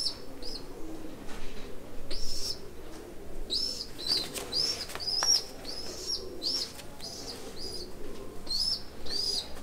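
A Tele breed pigeon chick coos in repeated soft calls with brief chirps and wing flutters, close by over a steady low background.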